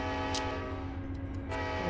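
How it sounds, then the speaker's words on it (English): A sustained, steady horn blast from an Amtrak passenger train in Run8 Train Simulator, sounding over a constant low engine rumble as it pulls into the Barstow station. "whistle, signal that we are coming into the station."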